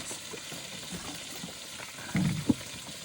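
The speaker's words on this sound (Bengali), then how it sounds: "এই তো পটল ভাজা করছি পটল ভাজা" A soft, continuous sizzle of pointed gourd frying in oil, with a brief louder scrape of stirring and a single clink near the end.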